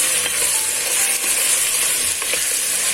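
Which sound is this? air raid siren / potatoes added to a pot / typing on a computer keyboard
potatoes added to a pot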